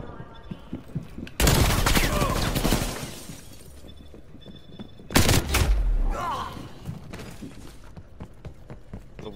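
Two loud sustained bursts of automatic gunfire from a weapon in Black Ops Cold War Gun Game, each rattling for a couple of seconds, with quieter game noise and scattered shots between them.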